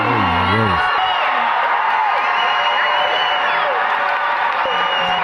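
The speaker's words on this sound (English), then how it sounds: "Those are all the Marxist Islamists applauding, clapping seals" A large audience applauds, whoops and cheers continuously in a loud, dense roar, with a voice heard briefly at the start.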